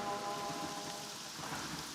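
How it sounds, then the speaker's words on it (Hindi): Steady rain falls in a continuous, even hiss on a rural dirt road, with no voices and no distinct individual drops. "बारिश में भीगने की आदत नहीं गई क्या?"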